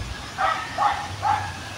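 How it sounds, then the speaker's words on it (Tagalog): A dog barks three times at a distance, evenly spaced, over a low steady background hum. "yung aso dyan tumatahol sa banda"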